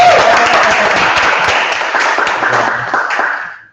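Audience applause for a student, Kenneth, at senior final presentations, a loud dense burst of clapping from a room full of people that tapers off at the end.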